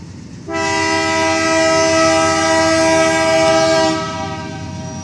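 BNSF 744, a freight train passing through Effingham, Illinois, sounds a loud, close, chord-like horn in one sustained blast of about three and a half seconds, over a rumbling rail background.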